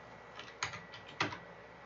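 A computer keyboard being tapped to enter a search, giving a few sparse, close clicks, with two sharper key strikes standing out against light background noise.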